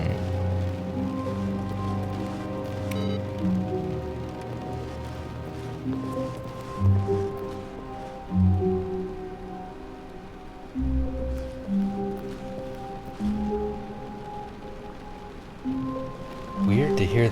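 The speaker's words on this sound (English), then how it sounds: "Weird to hear the rain." Soft, continuous rain patters in The Stanley Parable, heard as a steady hiss beneath a voice and tonal background sounds that rise and fall throughout.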